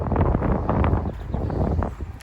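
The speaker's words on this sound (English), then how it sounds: "sorry if it's very windy, you can't hear me" Gusty wind buffeting a handheld microphone at an overgrown old ruin in Ireland, low rumbling blasts that swell and ease unevenly and dominate the whole stretch.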